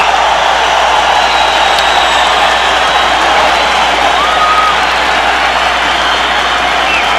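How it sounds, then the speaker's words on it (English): Boxing crowd at the 2000 Barrera versus Morales fight, on its feet after round five: a loud, sustained wash of applause and cheering from a large arena audience, continuous and unbroken throughout. "the entire crowd is on its feet in appreciation for what they saw in round 5"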